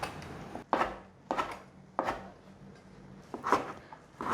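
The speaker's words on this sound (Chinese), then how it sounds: "那我们继续把这个素香菇角切条" A knife chops vegetarian shiitake mushroom pieces into strips on a board, with about six separate firm knocks at an uneven, unhurried pace, close and clear.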